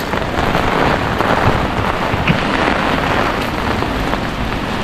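Heavy rain driven by strong wind, a loud continuous broadband roar with steady hiss and low rumble throughout, no voices.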